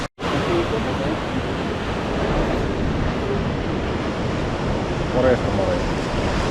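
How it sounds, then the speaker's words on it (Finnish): Sea waves breaking on the shore at Burgas, a continuous loud wash of surf mixed with wind buffeting the microphone, steady throughout with no clear individual breaks. "Kyllä se aaltoa pukkaa."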